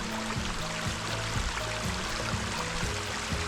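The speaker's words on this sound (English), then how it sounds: "Spring is coming right out of the mountain right here." Spring water pours straight out of a mountainside along an Idaho trail, a dense close rush and gurgle that runs unbroken.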